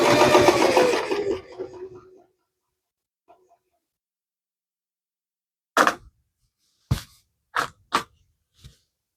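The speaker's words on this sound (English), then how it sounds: "all I'm gonna do is just finish sewing this" Sewing machine stitching a quilt in short separate bursts, five quick runs after a stretch of talk and a quiet pause, close by and fairly loud.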